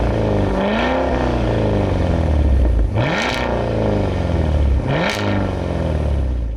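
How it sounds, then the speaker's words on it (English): A 2023 Cadillac Escalade V full-size luxury SUV with a quad exhaust revs loudly three times, each rise and fall of the engine note clear and close, with no talking. "Take a listen to a couple of revs from a Cadillac Escalade."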